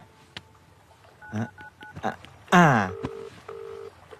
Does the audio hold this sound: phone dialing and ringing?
yes